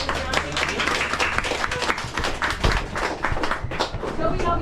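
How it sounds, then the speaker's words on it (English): A tour group claps for its bus drivers in a close, brisk round of applause with scattered individual claps and some chatter mixed in. The clapping lasts throughout. "Please give a round of applause for our bus drivers for getting us around."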